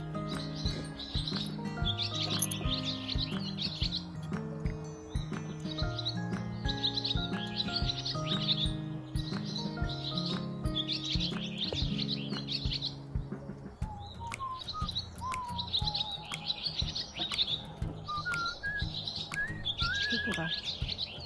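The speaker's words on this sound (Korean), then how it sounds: "새소리 들어봐라." Birds sing during a spring walk: repeated bright chirps and short trills, steady and fairly close, over a continuous low tonal background with faint voices.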